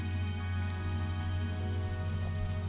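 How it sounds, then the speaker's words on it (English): Rain falls steadily in the Minecraft video game as a soft, even patter, with a quiet sustained tonal hum layered underneath. "I'm going to get the rain to stop for a minute."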